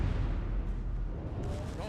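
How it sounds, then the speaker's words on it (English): Secondary guns on the German battleship Prinz Heinrich fire in a naval video game, a dense continuous rumble of distant artillery booms with heavy low-end under a voice. "Secondaries are already firing off."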